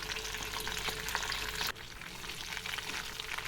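Tempering spices and curry leaves fry in hot oil for an aloo fry with a dense, steady crackling sizzle that drops briefly midway and then continues.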